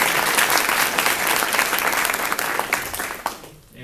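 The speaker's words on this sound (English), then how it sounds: "please join me in another round of applause for Stephanie Smith." An audience at a university scholarship awards ceremony at OSU applauds in sustained, dense clapping that tapers off near the end.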